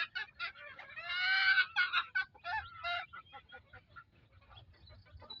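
Darag native chickens squawk and cackle up close in a busy burst of overlapping calls, loudest early on and then trailing into softer clucks alone.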